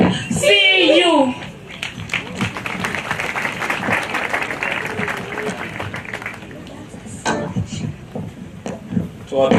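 Audience applause and clapping at an International Albinism Awareness Day event, loud and sustained across the whole stretch with crowd noise, opening briefly under a voice.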